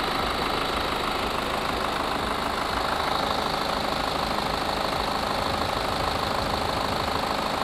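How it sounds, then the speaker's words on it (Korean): A BMW X4 xDrive20d (G02) diesel engine idles steadily at close range, a constant even rumble with faint mechanical ticking and no voices. "엔진 소리 일정하네요."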